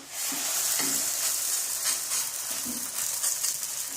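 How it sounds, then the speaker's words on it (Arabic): Msemen, a layered Moroccan flatbread, frying in a heated pan with a steady bright sizzle that runs the whole time, with a few soft clicks and handling noises near the pan. "وكنكونوا مسخنين واحد المقله ديال الملوي كنديروه فيها"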